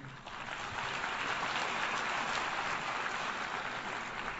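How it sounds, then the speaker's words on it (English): Applause from an audience at an ambassadors' summit, a steady, dense wash of clapping that holds at an even level throughout without any talk over it. "They deserve a round of applause."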